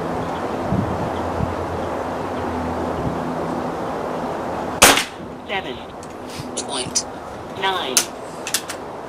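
An air rifle firing a slug through a sub-12 ft-lb gas ram or spring-piston action gives one sharp, loud crack, followed by fainter clicks and handling knocks against light outdoor wind noise.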